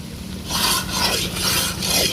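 Carrot halwa being stirred in a pan after condensed milk is added, giving repeated rhythmic scraping strokes of a spoon against the pan, close and fairly loud, with no talking.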